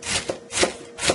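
A small knife slices through a cabbage half, cutting from both sides with three crunchy, rasping strokes in an even rhythm, close and fairly loud.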